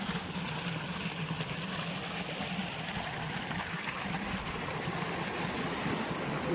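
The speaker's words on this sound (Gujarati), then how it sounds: "આ બીજી સાઈડથી ભંબો ચાલુ કરી નાખવાનો છે" A water pump runs steadily and water gushes out in a constant rushing flow to irrigate a mustard field, a loud, even wash of noise with no pauses.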